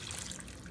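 Water poured as the remaining half cup goes into a pot of Mexican rice, a steady soft trickle and splash, close and quiet, running evenly with no talk.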